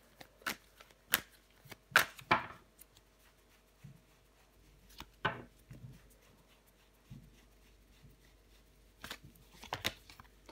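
Tarot cards are handled and turned over on a table, giving sparse, sharp flicks and soft slaps with quiet gaps between them, close and fairly faint.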